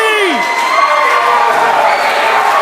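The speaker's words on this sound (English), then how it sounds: "Listen to that crowd!" A packed wrestling arena crowd roars and cheers loudly and continuously for a returning wrestler, a dense sustained wall of shouting voices with no break.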